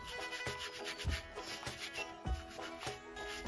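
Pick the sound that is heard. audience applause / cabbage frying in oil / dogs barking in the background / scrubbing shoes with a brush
scrubbing shoes with a brush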